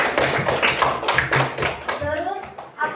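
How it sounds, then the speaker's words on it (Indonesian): Class of elementary school children clapping their hands together in a classroom, a short burst of quick, close applause with young voices mixed in. "Coba tepuk tangan dulu semuanya."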